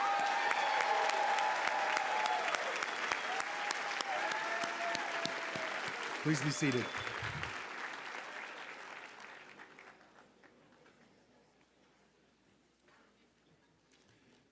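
Applause fills the hall at the Cushing Academy commencement for the graduating class of 2023, steady and dense at first, then gradually thinning and fading away as a voice speaks briefly near the end.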